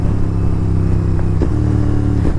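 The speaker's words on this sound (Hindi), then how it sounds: "देखा डाउनशिफ्ट की आवाज़, वो जो बूम बूम करता है ना भाई, वो क्लास ही लगता है।" A Royal Enfield Interceptor 650 motorcycle engine runs nearby with steady harmonic exhaust drone, shifting pitch twice as it is downshifted, with brief booming exhaust bursts at each change.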